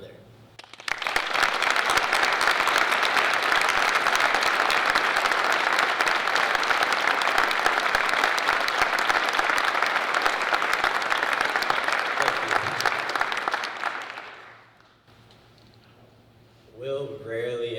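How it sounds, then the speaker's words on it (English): A large audience at a memorial ceremony applauds steadily and loudly for about thirteen seconds, then the clapping fades out and a voice begins to speak. "join me in a round of applause for my brother"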